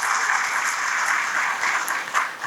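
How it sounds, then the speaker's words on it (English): A crowd claps steadily throughout, a broad wash of many hands at moderate distance, sustained and even with slight swells and no speech over it. "A big round of applause for that"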